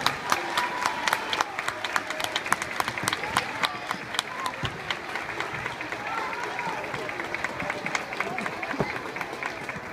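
Audience at an end-of-year school concert applauding steadily for the whole stretch, dense sharp claps with crowd noise and a few voices mixed in.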